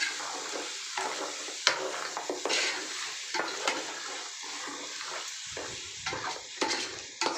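Mutton curry with chili powder is stirred in a pan, giving continuous close sizzling and frying broken by repeated scraping strokes, with no one talking.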